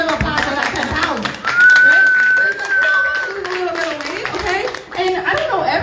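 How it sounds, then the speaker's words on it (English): A roomful of people claps at a live water-product demonstration: brisk, uneven clapping running under loud chatter and voices, with a sustained tone rising above the mix midway. "Let's give a round of applause for that 10 pounds."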